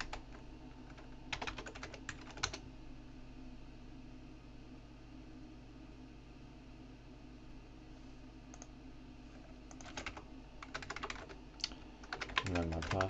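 Typing on a computer keyboard in bursts of clicks, with short clusters near the start and a denser patter toward the end, over a steady background hum from a nearby fan or machine.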